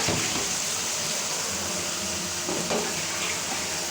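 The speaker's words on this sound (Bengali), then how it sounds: "ধুয়ে নিচ্ছি ঝাঁঝরিটা" A strainer is rinsed under a running kitchen tap, a close, continuous hiss of splashing water that stays steady and loud for the whole moment.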